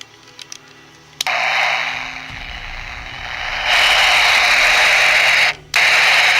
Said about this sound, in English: This here is a form of white noise. It's an ordinary baby monitor.